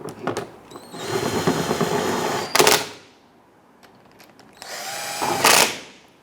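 A power tool whirs in two long bursts while tightening skid shield bolts on a Jeep Grand Cherokee, each run ending in a sharp loud clatter, separated by a quiet pause with faint clicks.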